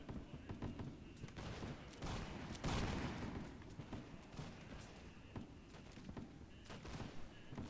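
Musket volleys from line infantry and riflemen in a Napoleonic-era battle video game, a ragged crackle of repeated shots and thuds layered over a dense battle din, with a voice talking over it.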